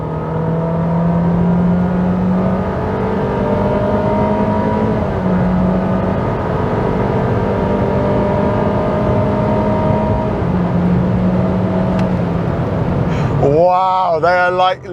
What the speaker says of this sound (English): Now it's time for a rolling race to see which of the cars is fastest when you put your foot down.